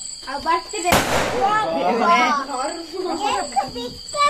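Sharp Diwali firecracker bursts crackle amid festive chatter, with a loud pop standing out near the start and people talking throughout.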